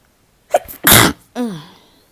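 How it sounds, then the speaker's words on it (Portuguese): A single loud sneeze up close: a quick breath in, the explosive burst, then a short voiced sigh trailing off afterward. "Perdão que eu vou espirrar."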